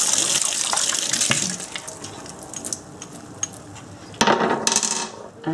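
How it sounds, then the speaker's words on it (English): Pebbles being rinsed under a running tap in a sink, water splashing steadily with stones knocking and clinking against each other, close and fairly loud. "Then we're going to give them a rinse."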